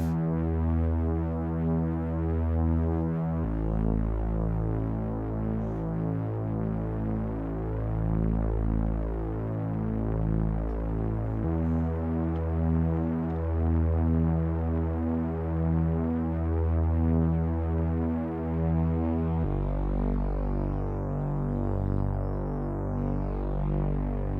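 Eurorack modular synthesizer with an oscillator run as a fast LFO gives a steady throbbing drone of stacked harmonic tones, shifting pitch in a few abrupt steps, loud and continuous for over twenty seconds with no voices.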